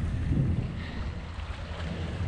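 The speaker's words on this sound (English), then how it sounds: "Here comes the cabin cruiser waves." Cabin cruiser waves from a passing boat washing across a channel, a low steady rumble of water and wind buffeting the microphone with no voices.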